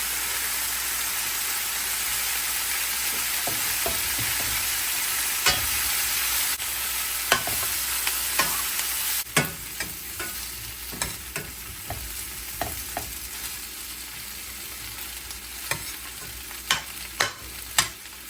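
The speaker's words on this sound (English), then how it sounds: "Add fresh thyme. Add in the chopped garlic." Chopped garlic and fresh thyme sizzle steadily in a pan while preparing Jamaican pepper shrimp, with a continuous hiss broken by frequent scraping stirs and clinks that grow busier toward the end; no voices.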